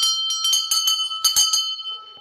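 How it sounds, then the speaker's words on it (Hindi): Small metal temple bells ring in a quick irregular cluster of bright strikes at a temple in a dense forest, their clear tones lingering and fading over a couple of seconds. "यहाँ भी ना घंटियाँ चढ़ा रखी है"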